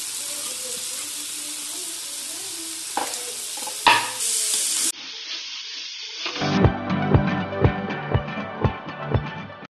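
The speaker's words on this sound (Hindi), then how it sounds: "अब इसमें डालेंगे हम मेथी" Fenugreek leaves are stirred and fried in a pan for aloo methi, with a loud sizzle and hiss that rises and then drops away, followed by a series of rhythmic scraping stirs against the pan, close to the listener and with no voice.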